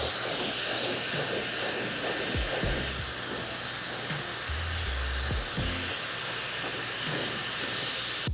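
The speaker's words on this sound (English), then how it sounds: "I'm just gonna dry the sides up and leave the top wet" A hair dryer blows with a steady, loud, continuous rushing hiss while the sides and back of a client's hair are dried during a drop fade haircut, with no speech.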